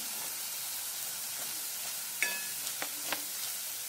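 Spices stirred in a cooking pan for mushroom paneer masala: turmeric, coriander and red chili powder. A faint, steady sizzle runs throughout, with a few soft scraping strokes near the end.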